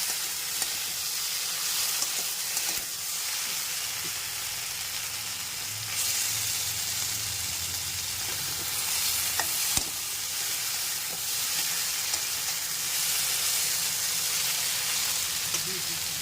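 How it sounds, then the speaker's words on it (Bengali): Okra with poppy seed paste frying in a pan gives a constant bright sizzle and hiss, with occasional stirring scrapes and faint voices in the background. "সেটা ভাজা ভাজা হয়ে গেছে ভাজা ভাজা হলে একটু পোস্তর রঙটাই চেঞ্জ হয়ে যায়"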